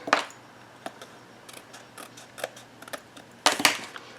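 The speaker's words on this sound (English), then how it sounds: "then we'll trim this piece down" Cardstock being trimmed down for a handmade card, heard as a handful of crisp, close cutting snips and slides spaced irregularly over a quiet background, with no talking.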